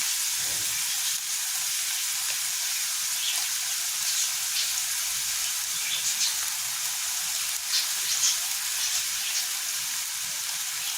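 Onions sizzle and fry steadily in a pan after a pinch of salt goes in, a loud, even hiss with faint crackles and occasional stirring scrapes, no voices.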